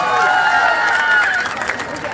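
At a Khesari Lal Yadav Bhojpuri stage show, a large audience applauds and cheers under a loud, sustained tone from the stage sound system, the noise easing slightly toward the end.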